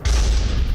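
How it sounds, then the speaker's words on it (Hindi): A Russian S-60 anti-aircraft gun explodes while firing faulty North Korean shells, giving a loud, sudden, broad roaring blast that fills the whole brief moment. "रूसी S-60 एंटी एयरक्राफ्ट गन में धमाका"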